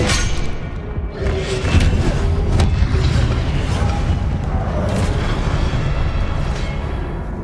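Spell combat in Hogwarts Legacy, with a Confringo fire spell bursting amid other casts: dull booms and thuds land several times close together over a continuous, loud rumble of in-game effects.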